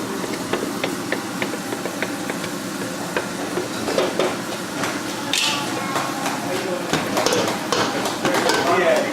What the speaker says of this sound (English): Let's go ahead and add our sauteed veggies here.